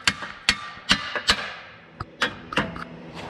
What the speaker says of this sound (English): See what a little hammering might do for us